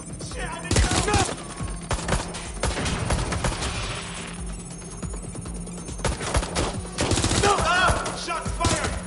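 Gunfire in the video game Watch Dogs Legion, loud bursts of shots clustering early and again near the end, with a denser rattling stretch between and game noise throughout.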